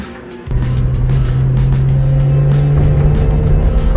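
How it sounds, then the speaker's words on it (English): A car engine idles and surges at low RPM, a steady low rumbling drone starting abruptly after a brief quieter moment and holding loud and close, with no talking. "The car is acting weird at low RPMs. It's like surging."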